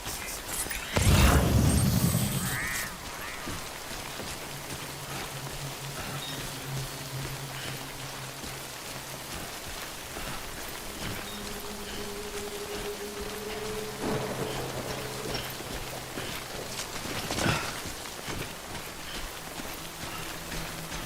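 Steady rain falling in the video game Death Stranding, a soft continuous wash of drops with a few low rumbles and brief louder bursts, no voices.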